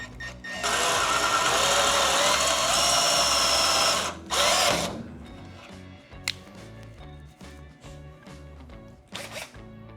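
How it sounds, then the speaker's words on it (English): A power drill bores through a hood strut bracket on a Mazda Miata, a loud steady whine for about four seconds, a brief second burst, then quieter ratcheting handling noises and a final short spurt. "when we drill this, we don't want to go all the way through into the hood. You just want to go through the bracket"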